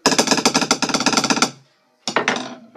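Regular wooden drum sticks strike an old wooden table in a fast, loud run of sharp hits. A short pause follows, then a few more strikes.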